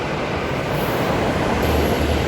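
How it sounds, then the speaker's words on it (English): Perth electric NIS train pulling away from Murdoch station, a loud, steady rumble of rail wheels and carriages rolling along the track close by with no talking. "Perth service now departing platform number 1"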